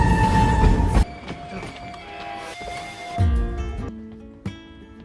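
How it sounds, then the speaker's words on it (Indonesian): Train pulling in and slowing at a level crossing, with a loud rumbling start that drops off, then squealing metallic wheel and brake tones and clunks, heard alone without talk. "10 menit kemudian tibalah kereta di perlintasan"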